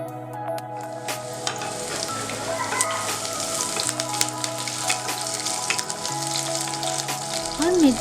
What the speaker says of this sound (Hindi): उसके बाद हम डालेंगे कटी हुई लहसुन, उसको भी भून लेंगे।